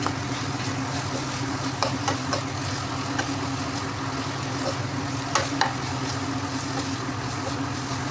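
Grated carrots stirred in a hot pan, with a constant soft sizzle and occasional sharp scrapes and clicks of the spoon against the pan, heard close and alone.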